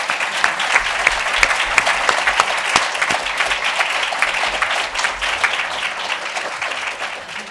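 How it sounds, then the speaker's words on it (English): A room full of people gives a panel a round of applause at an awards event, steady dense clapping held at a loud level for several seconds before it begins to taper. "Would you give our panel a round of applause?"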